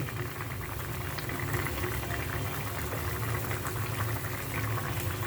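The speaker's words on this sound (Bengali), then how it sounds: "এটার ভিতরে আমি যে ইলিশ মাছ দুটো ভাজি করে রেখেছিলাম সে দুটো দিয়ে দেবো" Hilsa fish curry simmers with a dense, continuous bubbling and boiling close by, steady in loudness, as two fried hilsa fish go into the pot, with no talk.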